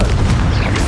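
A Confringo spell explosion from Hogwarts Legacy gives a short, heavy boom, deep and loud, with a quick crackling burst on top, lasting under a second.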